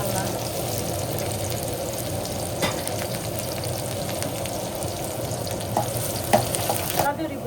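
Onions sizzle steadily in a hot pan while being stirred, with occasional scraping clicks and voices talking in the background.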